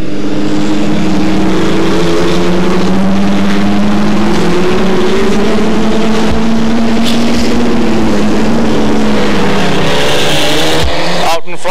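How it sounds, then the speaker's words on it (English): Hot-rod race cars from a 1996 event circle a track, engines droning loudly and continuously with rising and falling pitch as they pass, a crowd or commentary murmuring underneath and a sharp burst at the end. "We have 5 cars participating in this particular race."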